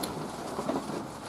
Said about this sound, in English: The rain has come in hard and sideways, driven in by foul winds.